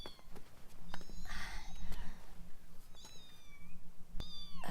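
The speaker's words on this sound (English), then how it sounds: "A kitten? Oh, it's the cat." A cat in an animated scene meows several times, high and drawn-out calls spaced over a few seconds against a quiet low background hum.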